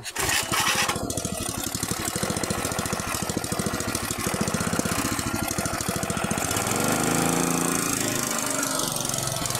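A VAP 630 walk-behind tiller's engine runs loud and steady at close range, a dense mechanical drone with knocking and squealing overtones that shifts in pitch toward the end, with no talk over it.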